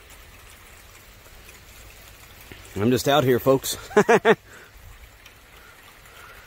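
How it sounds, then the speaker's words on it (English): A steady hiss of falling rain runs throughout, while someone speaks and laughs briefly near the middle. "And I think here comes the rain."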